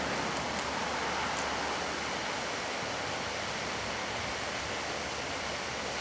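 Compressed air blasts through an in-ground sprinkler zone while it is winterized, making a steady, broad rushing hiss like spraying water that holds unbroken for the whole stretch, with no talking.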